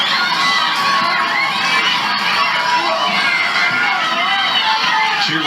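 Large crowd at a 1997 high school football game between A L Brown and South Rowan cheering and shouting steadily in a stadium, dense continuous roar with children's voices, loud throughout.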